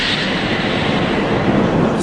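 A train in a film rumbles steadily and loudly, a broad continuous roar of rail noise holding level throughout with no pauses.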